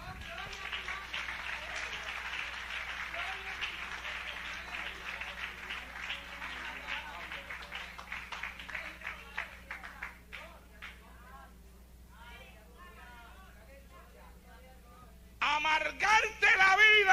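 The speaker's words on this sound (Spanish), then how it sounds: "Dale un aplauso al Señor." A congregation at a Christian church service claps in a dense, sustained burst of applause that fades after about ten seconds into quieter room sound, then a louder burst returns near the end.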